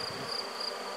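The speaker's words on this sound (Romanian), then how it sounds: "Albina a ieșit afară, uite, o bate vântul." Honeybees fly outside the hive on a cold, windy day, giving a steady, close buzzing hum without a break over one short second.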